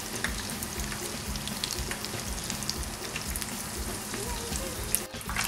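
Beer-battered conch fritters deep frying in hot oil, a steady dense sizzle and crackle running throughout at close range, with no talking.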